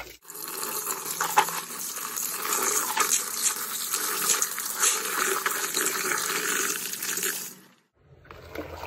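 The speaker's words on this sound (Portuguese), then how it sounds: "Então aí você coloca a água de novo." Water gushes steadily into a basin of gym clothes with powdered detergent, a loud, close splashing pour lasting about seven seconds before it stops abruptly.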